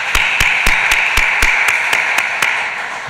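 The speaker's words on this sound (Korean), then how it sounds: "우리 한번 박수로 우리 함께 감사와 격려하도록 하겠습니다" A congregation claps at a Sunday afternoon church service, sharp, evenly spaced claps, about ten of them in a steady rhythm, close and fairly loud.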